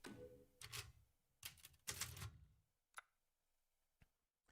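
Typewriter-like clacking in the game Resident Evil Village: a few loud bursts of rapid keystrokes early on, then sparse single sharp ticks, close and clear with no talking.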